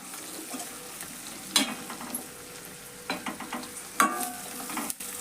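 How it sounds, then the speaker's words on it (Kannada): Onions frying in a little oil for spicy lentil saru give a steady soft sizzle, broken by a few sharp stirring scrapes and clinks of a spoon against the pan, close and alone. "ಇವು ಉಳ್ಳಾಗಡ್ಡಿದು ಹಾಕಿವಲ್ರಿ ಸ್ವಲ್ಪ ಎಣ್ಣೆ ಒಳಗೆ ಫ್ರೈ ಆಗಲಿರಿ ಅವು"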